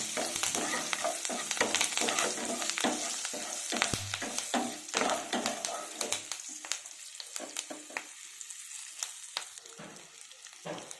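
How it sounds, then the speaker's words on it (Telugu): Oil sizzles with dried red chillies, curry leaves and garlic frying in a pan, crackling steadily, while a spoon scrapes and clinks now and then. The sizzle fades slightly toward the end. "ఇవి ఫ్రై అవుతున్నాయి కదా, ఇవి కూడా వేసేసుకున్నాము. ఎండుమిర్చి, కరివేపాకు, వెల్లుల్లిపాయలు."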